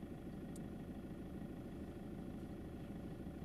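A car engine idles during a driving lesson, a steady low rumble that holds at the same level throughout with no talk over it.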